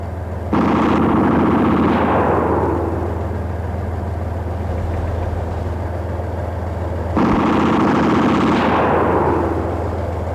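A 7.62 mm machine gun mounted alongside the cannon of a Soviet T-72 tank fires two long, loud sustained bursts several seconds apart over a constant low engine rumble.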